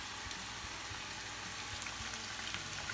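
Egg sizzling and frying in a hot pan while being stirred into chicken fried rice, a steady close crackle with faint scraping, no talking.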